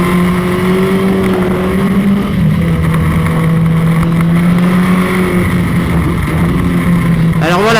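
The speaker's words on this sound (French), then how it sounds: "Alors voilà, la moto fait un peu de bruit." A motorcycle engine drones steadily while riding on a slippery road, loud and close with a constant low hum and faint road and wind noise, ending with a brief rise in pitch.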